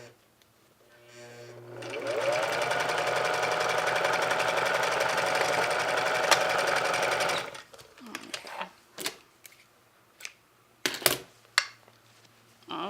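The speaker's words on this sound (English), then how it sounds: "Now I'm going to do some major back stitching down here," A sewing machine back-stitches a dress in one loud, continuous whirring run of about five seconds, then stops, leaving scattered handling clicks and knocks.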